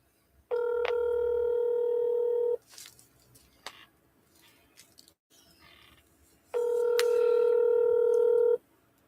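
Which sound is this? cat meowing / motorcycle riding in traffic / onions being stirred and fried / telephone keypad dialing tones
telephone keypad dialing tones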